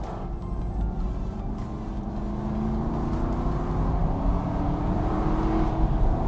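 An Aston Martin Vantage with a 4.3-litre V8 revs and pulls in a steady, close, throaty drone whose pitch climbs gradually as the car accelerates, heard alone without speech.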